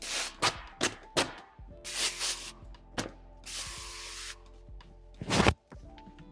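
Slip solution sprayed from a hand bottle during a matte paint protection film install on a Rivian R1S, heard as several short bursty hisses and a couple of longer sprays, close and alone, with light rubbing and thunks between them.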